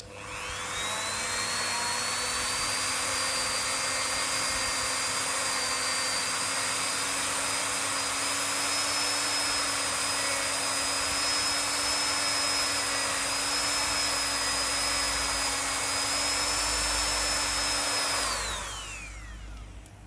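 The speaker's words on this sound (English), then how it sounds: "I'm just using the Dremel, just the polishing bit." A Dremel rotary tool with a polishing bit cleans rust off a Royal Enfield Himalayan rear suspension link, a steady high-pitched whine running close and loud for about eighteen seconds before spinning down at the end.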